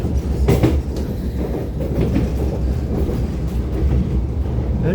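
An SMRT R151 North-South Line train departing towards Marina South Pier, heard from on board as a steady low rumble with rhythmic wheel clatter and a few sharper clicks, loud and continuous without talk.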